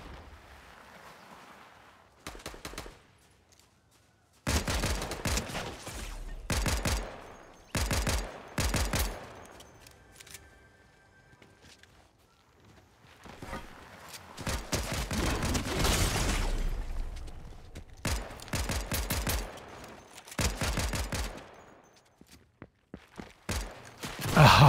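Rifle and handgun fire in a Fortnite Battle Royale solo match, coming in loud bursts of rapid shots separated by short quiet gaps, with a long sustained volley near the middle and more bursts toward the end.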